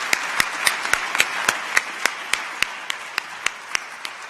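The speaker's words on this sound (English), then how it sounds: "Let's give another round of applause for the 3 winners of this year's Secretary of State's Award" Audience applause at the Secretary of State's Award for Corporate Excellence ceremony, a steady wash of clapping across a hall punctuated by a dozen or so sharp, louder individual claps at a roughly even rhythm.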